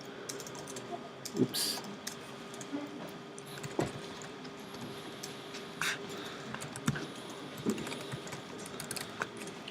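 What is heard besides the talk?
typing a username on a computer keyboard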